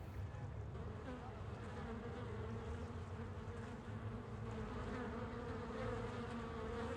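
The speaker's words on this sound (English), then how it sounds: "Wasp's nest." A wasp's nest in the Nancy Drew game The Phantom of Venice gives off a soft, steady insect buzz that drones continuously without pause at low volume.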